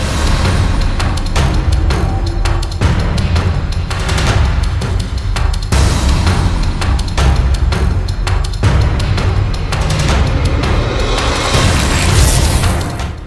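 Loud, dense booms and crackling bursts from an ATM blast shown on a crime show, with heavy impacts repeating throughout and no speech.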